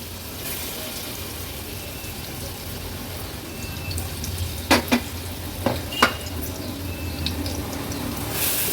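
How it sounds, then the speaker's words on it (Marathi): Coarse-ground masala paste frying in hot oil in a pot for a seafood thali: a continuous soft sizzle with a few sharp utensil clicks and scrapes near the middle. "आता हे जाडसर वाटलेलं वाटण आपण तेलावर ऍड करूया"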